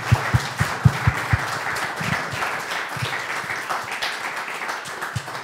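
A crowd applauding, opening with a few distinct loud claps before settling into steady, dense clapping that continues throughout.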